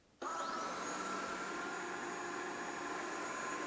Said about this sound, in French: je vais lancer le premier nettoyage automatique